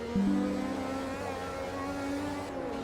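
1984 Formula One race cars accelerate in the Automobilista 2 racing game, producing a fairly quiet, steady, high-pitched engine drone with shifting tones that holds throughout with no talking.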